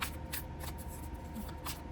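A deck of cards shuffled up close during a card reading, a steady riffling flutter lasting a couple of seconds with no talking.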